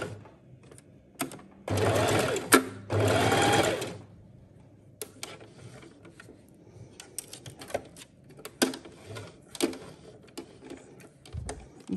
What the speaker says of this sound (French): Là, je vais venir faire une petite couture et je ferai mon point d'arrêt ici.